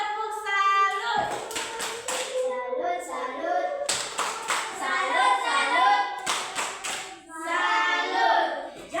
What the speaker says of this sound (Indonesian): Tepuk salut untuk Grace. Tepuk salut.